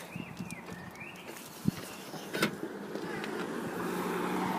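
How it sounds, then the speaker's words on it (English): The electric tailgate of a BMW X6 opens with a motorised whir that rises and falls, with a couple of soft clicks and thuds partway through, fairly quiet and close. "as you can see, it's an electric boot, works perfectly fine"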